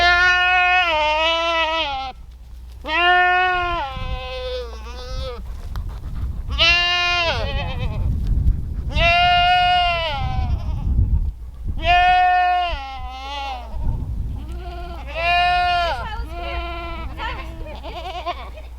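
Goats on a working farm bleat loudly and close by, with about seven long, wavering calls spread over nearly twenty seconds and a low hum running underneath.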